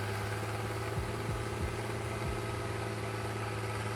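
The 150-plus horsepower engine of a T150K tractor, weighing nearly 17,000 pounds, drones steadily and loudly while it pulls a steel cable tight, a deep constant rumble with a few brief surges and no one talking.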